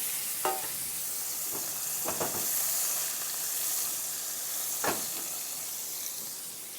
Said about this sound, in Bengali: ওদিকে মাছ ভাজা হচ্ছে